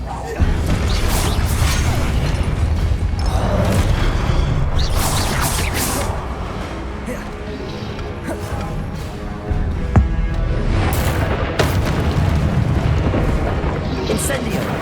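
Confringo explosion spells cast in the Hogwarts Legacy video game, loud booming blasts and crashing impacts continuing throughout, under shouted speech.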